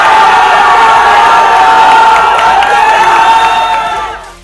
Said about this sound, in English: the cheering from OG fans echoed louder